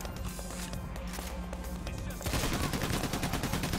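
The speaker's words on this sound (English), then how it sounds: "crouching and shooting and stuff" Gunshots in the heist game PAYDAY The Heist during the First World Bank job: a dense, loud stretch of rapid firing that intensifies midway, mixed with game noise and light talk.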